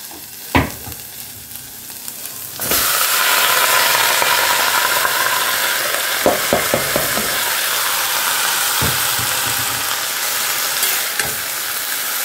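Food fries in a pan. A quiet start with a few utensil knocks gives way to a loud, steady sizzle as ingredients go in, and scattered stirring clinks break through it.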